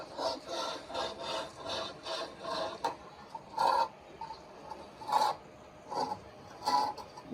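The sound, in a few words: scrubbing a blistered stucco wall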